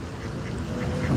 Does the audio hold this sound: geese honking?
yes